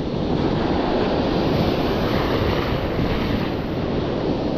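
Loud, steady sea water and surf rush on a windless day at sea during a fishing trip, likely aboard a boat, with broadband wash filling the whole stretch and no speech.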